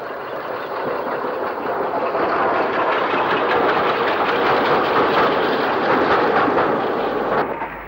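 A locomotive, 44888, running on a 1960s rail tour between Manchester and Southport, passes steadily and loudly with continuous broadband rumble and rhythmic clickety-clack of wagons throughout, fading slightly at the end.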